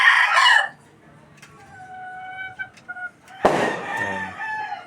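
A native-line rooster crows loudly nearby, with a long drawn-out call near the start and another burst partway through, amid other clucking chickens and faint background noise.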